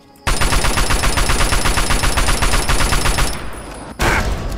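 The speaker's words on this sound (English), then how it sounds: "Machine guns." A sustained burst of machine gun fire from the video game Fallout 3 hammers out in a fast, steady rhythm, loud and close, breaking off briefly before a short second burst resumes.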